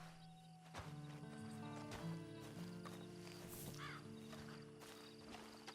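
Horse hooves clop in Red Dead Redemption, faint and uneven beneath a swelling orchestral score, with occasional crow caws.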